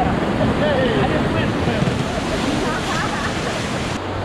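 Whitewater rafting on the Middle Ocoee River, with a steady roar of rushing water and waves splashing close by and loud throughout, with no gaps.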